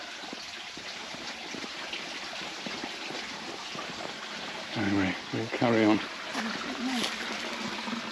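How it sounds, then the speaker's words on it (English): A small roadside brook runs along a country walk near Petit Bot, Guernsey, giving a steady soft gush of water beneath a voice that speaks briefly near the end. "Just hear the sound of the running water by the side of the road."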